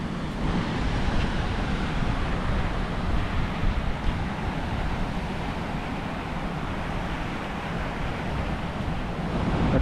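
Rough monsoon-season sea surf rolls in at Kamala Beach, Phuket, a steady broad roar of waves mixed with gusty wind buffeting the microphone, continuous with no talking.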